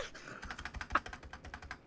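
Rapid typing on a computer keyboard, a quick, uneven run of about fifteen crisp key clicks close to the microphone, with no voices.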